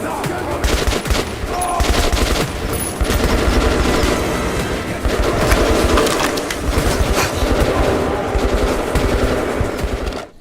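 A firefight in Metro 2033 with dense, sustained automatic gunfire and overlapping shots throughout, loud and close with barely any pause.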